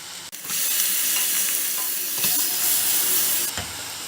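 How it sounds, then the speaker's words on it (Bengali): Grated radish frying over high heat, a loud continuous sizzle and hiss up close, with brief scrape-like bursts as it is stirred. "এবারে গ্রেট করা মূলোটা দিয়ে দিন, দিয়ে জোর আঁচে ভালো করে ভেজে নিন।"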